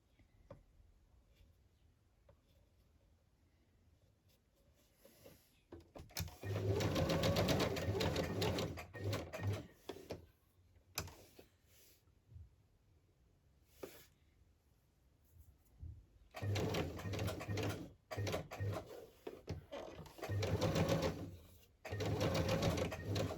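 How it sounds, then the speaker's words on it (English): Sewing machine stitching a fabric and embroidery tag, bursts of rapid mechanical whirring separated by quiet pauses and small handling clicks. "I think I'm going to machine stitch that there"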